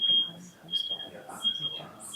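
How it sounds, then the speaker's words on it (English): A high, thin electronic alarm beep, heard as a fire alarm, sounds in short repeated bursts behind people talking, fairly faint and steady in pitch. "Is it a fire alarm?"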